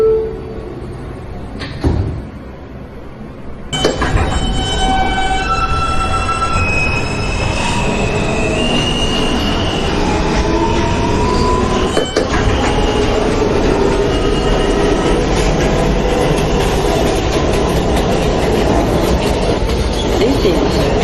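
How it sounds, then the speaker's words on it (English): A Manhattan-bound J local subway train starts up after a quiet pause and runs steadily and loudly, with rumbling wheels, rhythmic clacking and thin squeals of wheels on rail. "is a Manhattan-bound J local train"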